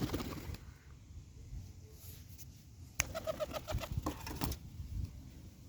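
Soft, low pigeon coos come in a short burst, faint against quiet outdoor background noise.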